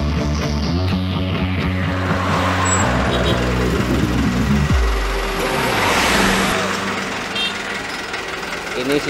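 Heavy engine of a stone-loaded dump truck labouring during a roadside recovery, a loud pulsing diesel drone that drops and shifts partway, with rattling machinery and background noise throughout.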